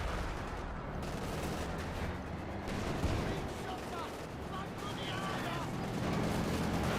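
Continuous artillery barrages and gunfire in a Company of Heroes 2 World War II battle, a dense rumbling wash of distant shell impacts and crackling small arms that never lets up, heard far off and steady throughout.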